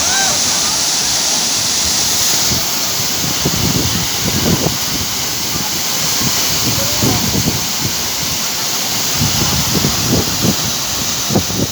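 Subon Falls near Bumulatot pours in a steady, close rushing roar that never lets up, with scattered low thumps and faint voices beneath the water.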